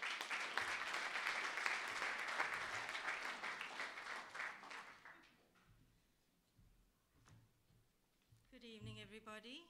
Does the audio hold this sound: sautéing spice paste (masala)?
no